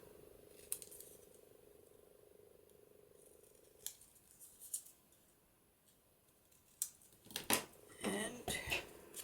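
Scissors trimming the corners of a paper Polaroid-style frame, several crisp close snips clustered near the end, after a quiet stretch with a faint steady hum.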